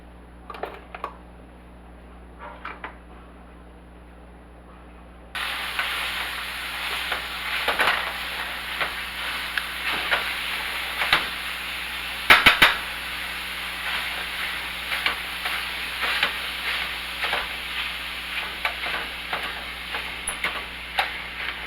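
Ground chuck, 80/20 beef, sizzling in a frying pan, a steady close hiss that starts abruptly and runs on with small scraping and stirring clicks over it.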